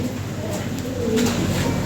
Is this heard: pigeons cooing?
yes